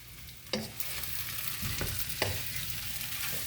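Plant-based vegan chicken stirred around a frying pan for a korma, with steady sizzling frying underneath and a few scraping spatula strokes, close and moderately loud.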